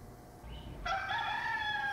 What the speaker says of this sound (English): I think Bubba's got a new rooster.